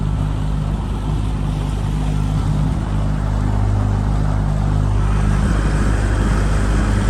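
A 9.9 HP Mercury outboard motor at half throttle pushes a Bass Raider boat at about six miles an hour, making a loud, continuous engine drone with wind and water noise and no break.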